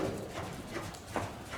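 Mare trotting in a circle during a riding session, steady clip-clop hoofbeats at moderate distance in an open arena, with a faint voice in the background.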